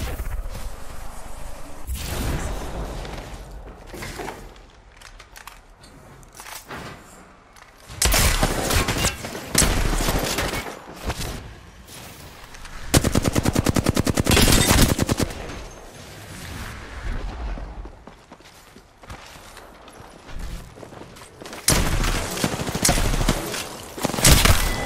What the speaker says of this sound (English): Nice aim, nice shots.